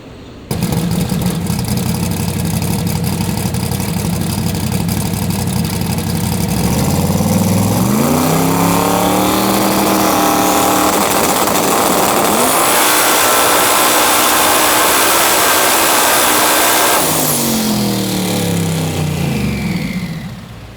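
A twin-turbo LS 429 engine in a Noonan Chevy II runs on a dyno at 16 pounds of boost. It idles, then revs up hard and holds a loud, roaring full-throttle pull before dropping back off.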